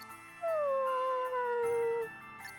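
A dog howls once in the video game Bravely Default II, a single long falling wail lasting over a second and a half, fairly faint, with soft game sounds around it and no talk over it.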